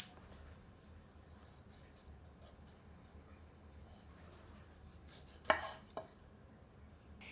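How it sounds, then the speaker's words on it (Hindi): A few soft knife chops on a board as yellow chili peppers are cut, mostly two sharp knocks near the end, over a low steady background hum. "इन्हें एक बार साफ पानी से धोकर टुकड़ों में काट लेते हैं।"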